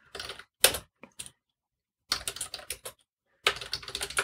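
Keys clatter on a computer keyboard as a password is typed, in quick bursts of close, crisp clicks separated by short pauses.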